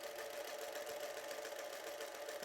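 A Singer Featherweight sewing machine stitches quilt patches in a fast, even, continuous whirr with a rapid mechanical chatter, faint and steady throughout.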